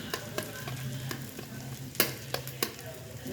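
Egg fried rice with mixed vegetables sizzles steadily in a pan while a utensil stirs it, scraping clicks and taps breaking through at irregular moments, close and moderately quiet with no talking.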